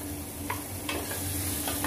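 Tomato stir-frying with dried and fresh shrimp in a pan, a steady close sizzle with a few soft stirring scrapes and taps, no talk.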